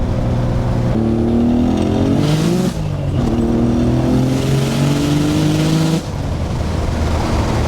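A 900 hp Nissan 300ZX with anti-lag pulls hard in third gear, its loud engine note climbing steadily through two long, sustained sweeps separated by a brief dip near the top, close to the car and with no talking.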